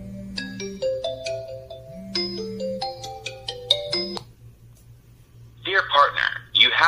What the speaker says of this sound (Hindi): आप देख सकते हैं मेरे मोबाइल पर फ़ोन आ गया